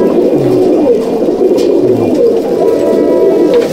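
Low rolling coos from pigeons in a Madrasi loft, a continuous close chorus with a couple of distinct longer coos standing out, no talk.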